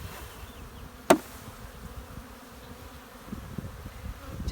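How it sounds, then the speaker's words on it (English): Honeybees shaken off a hive frame during a spring hive split in Durango, Colorado, give a faint, steady low buzzing, broken once near the start by a single sharp knock. "So we're going to shake the bees off here."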